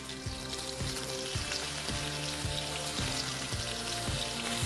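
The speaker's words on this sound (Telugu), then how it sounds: "మిగతా రొయ్యల్ని కూడా ఇదే నూనెలో వేసి చేసేసుకుంటాను" Prawns frying in hot oil give a steady, close, dense sizzle with faint rhythmic thumping underneath.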